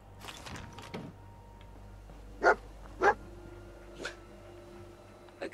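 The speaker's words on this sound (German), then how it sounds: "Ich werde diesen verdammten Hund noch in meinen Träumen bellen hören." Dog barks from the game Fallout 4, several separate sharp barks spaced a second or so apart over a quiet, humming game background.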